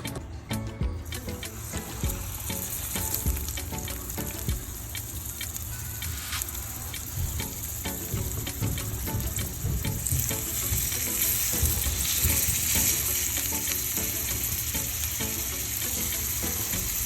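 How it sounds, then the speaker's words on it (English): Spicy gator meat seasoned with garlic powder frying in a pan, a loud continuous close sizzle with crackling and stirring, no voices. "this is the one that we're gonna put in the frying pan"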